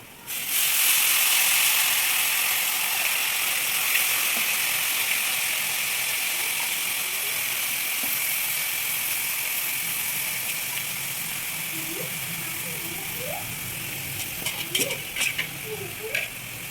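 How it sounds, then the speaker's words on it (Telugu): Washed cabbage tossed into a hot pan of fried seasonings for cabbage chana dal curry, giving a steady broad sizzle throughout with scattered stirring clinks and scrapes near the end, no talking. "ఇవి ఇప్పుడు దీంట్లో క్యాబేజీ వేస్తున్నాను కడిగి."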